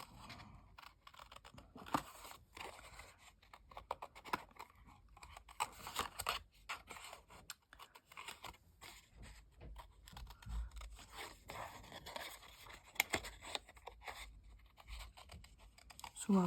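Scissors snip and scrape through paper being cut out for a junk journal, a faint, close sequence of irregular small cuts with no talking.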